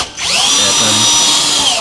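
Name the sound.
drilling holes to attach car side skirts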